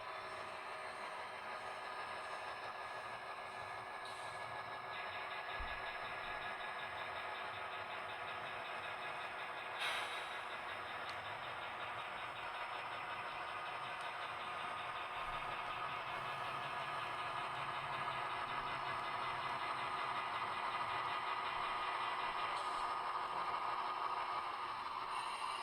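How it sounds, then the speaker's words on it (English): A switching train shoves two gondola cars toward an industry siding under a constant, even hiss of air brakes and an idling engine, with a few faint clunks and no talking. "we'll shove back, drop these two gondolas off, and then back up again, and drop off our two cars into the industry"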